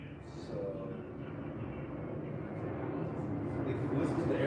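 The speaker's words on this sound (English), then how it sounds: "if you listen to the airplanes," Airplanes pass overhead beneath a flight path, heard as a steady, distant jet rumble that swells slightly toward the end.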